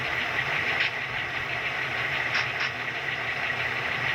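A Tsunami sound decoder in an Athearn FP7 model locomotive puts out a steady diesel exhaust rumble at moderate volume, with a few faint hiss-like bursts over the drone.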